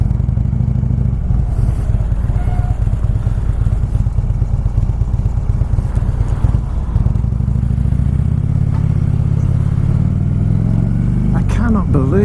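A motorcycle, apparently a Harley-Davidson, fitted with Cobra exhaust pipes rumbles loudly up close, its deep engine note shifting in revs, with someone speaking over much of it and a brief clatter near the end.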